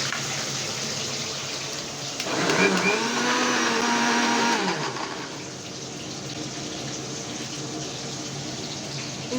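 Electric kitchen blender grinding onion, garlic, ginger and green chilli into a paste for chicken biryani masala: a single loud whirring burst of about two and a half seconds mid-clip, then quiet room noise.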